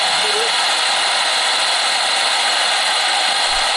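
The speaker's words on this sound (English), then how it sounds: "The important thing here is to get the welds to sufficiently penetrate the screw or bolt" A welder runs continuously on a screw or bolt during a rear wheel bearing replacement on a Jaguar X-Type diesel, producing a loud, steady, harsh buzzing hiss throughout.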